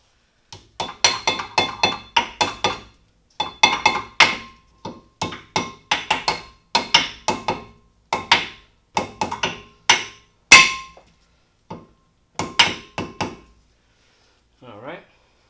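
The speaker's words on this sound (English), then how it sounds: "Put our new rotor on. There we go. Let's tap that in." Sharp metallic taps seat a new brake rotor on a 2012 Nissan Sentra, coming in irregular bursts of quick close strikes with short gaps, fading to a few isolated knocks near the end.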